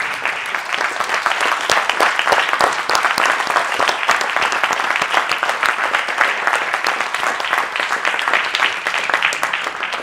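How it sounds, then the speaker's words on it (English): Hand clapping during a livestream, a continuous, loud stretch of many rapid claps like a group applauding, going on steadily for about ten seconds. "I'll give you a hand clap."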